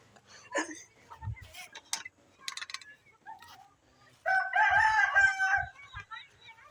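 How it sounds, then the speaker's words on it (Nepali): A rooster crows loudly and close by for a couple of seconds near the end, after scattered clucks and short noises from backyard chickens on a hot, sunny day. "हाम्रो कुखुराहरू पनि छ"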